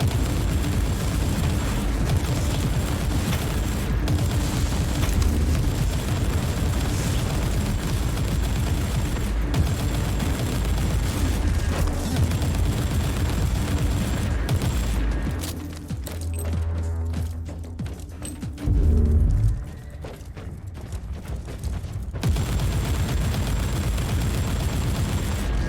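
Sustained gunfire and explosions rage through a Warhammer 40000 Inquisitor Martyr battle, dense cracks and blasts layered over a constant roar, with a brief thinning lull before the barrage resumes.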